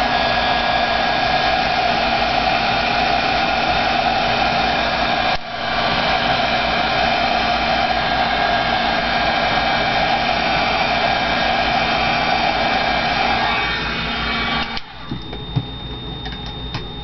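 A heat dryer blows on saturated cardstock in a craft project, a loud, steady whirring roar with a constant whine that runs unbroken for about fourteen seconds, dips briefly once, then cuts off near the end.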